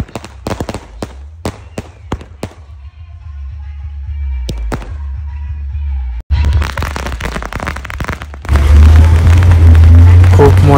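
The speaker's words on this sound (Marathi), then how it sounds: "आमच्या फटाक्यांचा जल्लोष." Firecrackers burst during a village Hanuman Jayanti procession: a rapid string of sharp, loud cracks and pops, then a dense roar of noise and crowd voices.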